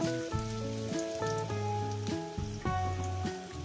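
Diced potatoes hiss and sizzle steadily as they go into hot salted oil with a pinch of cumin, cooking for a Bengali parshe fish and potato curry, mostly buried under loud melodic music.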